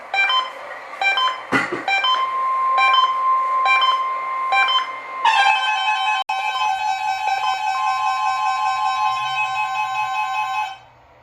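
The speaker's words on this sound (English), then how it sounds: "This is a test of Noaa Weather Radio's warning alarm system." NOAA Weather Radio warning alarm attention signal: a repeating two-tone beeping pattern, then a long sustained tone, loud and close with no voices.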